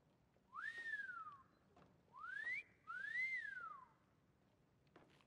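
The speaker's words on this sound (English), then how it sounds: "You mean I would finally be able to whistle for my horse?" In the game Skyrim, a person whistles for a horse: three clear, sliding whistles, each rising and then falling, heard alone against a quiet background.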